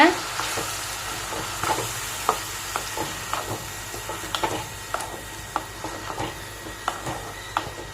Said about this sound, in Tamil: இப்போ வந்து இதை வந்து நல்லா வதக்கி விடுங்க